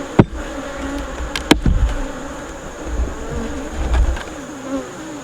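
Honey bees buzz steadily in an opened hive, a dense close drone with a few sharp clicks of a hive tool prying frames apart.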